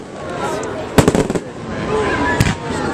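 Fireworks going off during an evening display in Christiansburg, two sharp crackling bursts a little over a second apart over a background murmur of voices.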